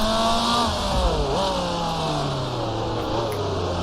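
A 1966 Formula 2 race car engine in Grand Prix Legends, climbing a hill in second gear, drones loudly and steadily. Its pitch falls, briefly rises near the middle, then sinks again, with no talk.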